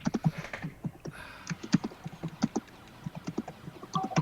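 Rapid clattering taps from someone typing on a computer keyboard, an uneven run of close, crisp key strikes with brief pauses, heard alone without talk.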